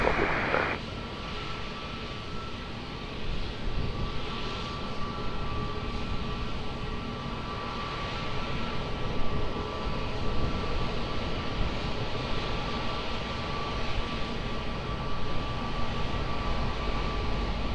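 An airliner on approach to Lisbon Airport's runway 20 drones steadily at a distance, a broad, even engine rumble that holds throughout with only slight swells in level.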